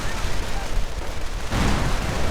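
Artillery battery fire in a real-time World War II strategy game, a dense rumbling barrage of booms running steadily throughout and swelling louder midway, with game sound effects layered over it.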